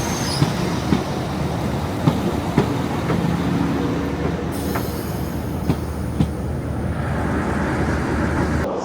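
A British Rail Class 45 diesel locomotive eases up to a signal: a steady nearby rail rumble with faint clicks, and a high wheel squeal breaking in over the second half, with no talking.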